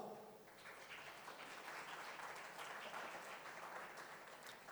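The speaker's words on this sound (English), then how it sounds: "So let's give them applause." Sustained applause from an audience, a dense wash of clapping that holds steady throughout, heard from a little distance.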